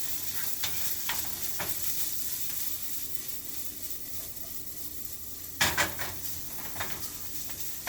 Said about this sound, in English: we'll be able to get all this fried up really good here